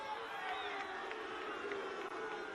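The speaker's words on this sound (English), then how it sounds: "the crowd just has discovered the referee's position on the previous events, and they're just venting their frustration" Rugby crowd at a Cook Islands v Hong Kong World Cup qualifier venting frustration at the referee, a steady, dense wash of distant voices and jeers sustained without a break.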